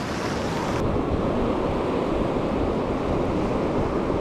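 Ocean waves crash and surge along the shore during fishing, a loud continuous roar of surf with wind buffeting the microphone.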